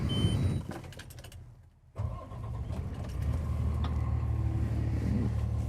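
Slide-outs retracting on a 2025 Renegade Verona 40VBH RV, a steady low motor hum and mechanical drone starting after a brief click, lasting several seconds without talk.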